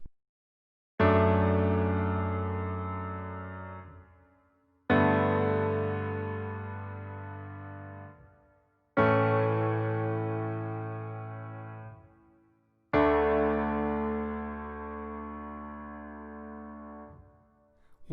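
A piano plays four slow, sustained chords in D from a worship song, each struck and left ringing to decay before the next, with no talking.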